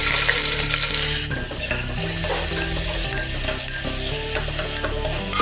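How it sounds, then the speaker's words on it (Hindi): Onions going into hot oil already seasoned with bay leaf and asafoetida for a spinach and eggplant dal, setting off a loud continuous sizzle with scraping stirs and spoon clatter against the pot. "अभी इसमें हम प्याज डालेंगे।"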